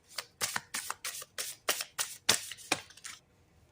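A deck of reading cards is shuffled, giving a quick series of about a dozen crisp riffling bursts, close and clear, with no talking.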